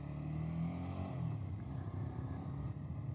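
A motorcycle coasts down without engine braking, giving a steady low rumble that holds throughout with a slight fluctuating drone and no rising revs.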